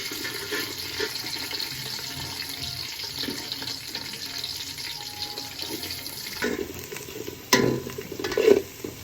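Finely sliced onions fry in hot oil for mutton biryani, a steady close sizzle with occasional stirring, followed near the end by a few sharper clinks and knocks.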